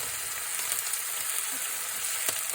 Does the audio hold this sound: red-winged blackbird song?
no